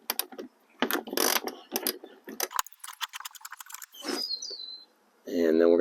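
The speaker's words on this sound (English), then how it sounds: "there's a bolt right here that needs to come out, and use a 10mm socket." Ratchet with a 10mm socket working a bumper bolt on a Honda Odyssey, a run of rapid, close clicking bursts in uneven spurts, followed by brief chirpy squeaks and a short tonal sound at the end.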